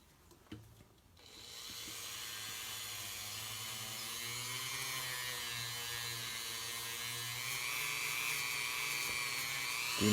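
A rotary polishing tool buffs a handmade silver bezel set with a cabochon stone, a steady high-pitched motor whine starting after a brief pause and running continuously, growing slightly louder toward the end.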